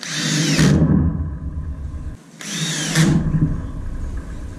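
Power drill driving screws into ceiling sheetrock, with two close, loud bursts of whirring motor rising and winding down, separated by a short pause.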